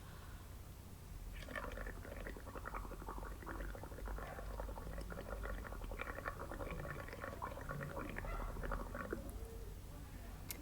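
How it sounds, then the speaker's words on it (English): Bubbling gurgle of air blown through a drinking straw into a cup of watery paint, a steady stream of small bursting bubbles and wet burbles running continuously at close range, with no talk over it. "I'm going to take my straw and I'm going to blow into one end of it and make some nice big bubbles"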